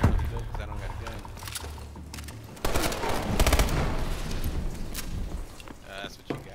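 Gunfire in Call of Duty: Advanced Warfare multiplayer comes as irregular bursts of shots and impacts, with a louder stretch in the middle, mixed with game effects and someone talking over it.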